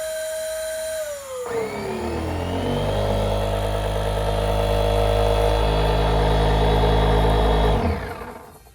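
Onboard inflator pump on a Malibu boat, starting with a rising whine and then settling into a loud, steady motor drone with a strong low hum before cutting off abruptly.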